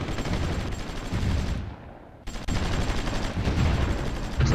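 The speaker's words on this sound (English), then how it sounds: "So the battle has started." Battle gunfire in the strategy game Supreme Ruler Ultimate: dense, continuous bursts of shots and rapid fire that fade briefly to a low rumble, then return loud and sustained.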